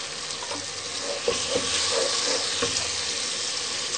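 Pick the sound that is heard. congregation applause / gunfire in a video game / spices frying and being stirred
spices frying and being stirred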